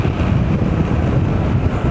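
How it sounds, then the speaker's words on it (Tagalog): Wind rushes past a microphone on a moving motorbike on a sunny ride, a steady, buffeting low roar with no break and no voices. "Buti na lamang mahangin. Dahil sa takbo ng motor."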